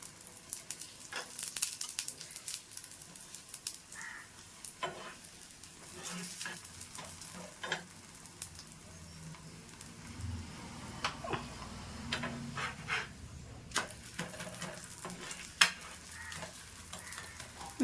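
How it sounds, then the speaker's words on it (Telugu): Neti bobbatlu flatbread roasting in ghee on a pan over low to medium flame, a soft continuous sizzle with scattered ticks and scraping as it is turned, faint and close. "లో టు మీడియం ఫ్లేమ్లో మనం రెండు వైపులా ఇలా కాల్చుకుంటూ ఉండాలి."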